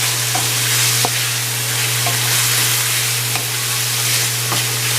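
Thin-sliced chicken and basmati rice frying on high heat, a steady loud sizzle with occasional sharp pops and stirring clicks, with no talking.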